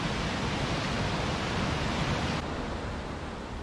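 Rushing rapids of a mountain torrent near the Val Nera waterfall in Livigno, Italy: a loud, steady broadband roar of water, close and continuous, with no voices.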